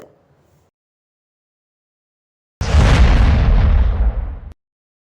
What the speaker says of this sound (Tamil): பட்டாசுகள் வெடித்து ஆட்டோ ஓட்டுநர்கள் சார்பில் சிறப்பான வரவேற்பு அளிக்கப்பட்டது